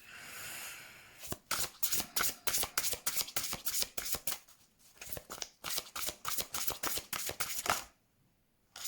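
A deck of unicorn oracle cards is shuffled by hand in quick rhythmic bursts of crisp riffling and slapping, close and clear, with a brief pause midway and no talking.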